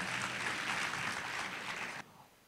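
An audience at a prize distribution gives a burst of dense clapping that fades slightly and then stops abruptly, leaving faint room noise.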